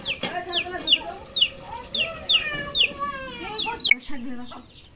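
Chickens cluck close by in quick repeated bursts, with a busy farmyard background and a sharp knock near the end.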